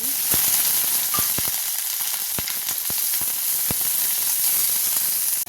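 Mustard seeds, cumin and onion sizzle and fry in about two spoons of hot oil in a home kitchen, a steady close crackling hiss with sharp seed pops scattered throughout, no voices.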